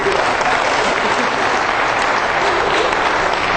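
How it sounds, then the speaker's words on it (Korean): A church congregation applauds in a dense, steady burst of many hands clapping together, loud and continuous for a few seconds with no pause. "우리 박수 한번 해주실래요?"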